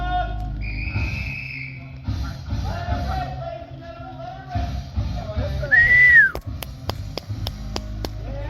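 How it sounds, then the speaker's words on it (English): A person whistles loudly at the start of a 12-hour ultra marathon outdoors, with a sustained whistle near the beginning and a sharp rising-falling whistle later, over a murmur of crowd noise and some sharp clicks. "I whistled when it started"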